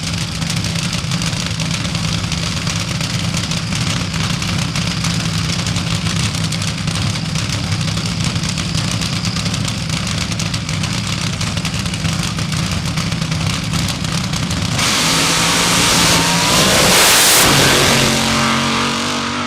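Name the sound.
fuel altered drag racing car engine idling and revving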